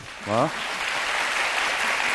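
A lecture audience at a philosophy talk breaks into dense, steady applause right after a brief spoken word, filling the rest of the moment.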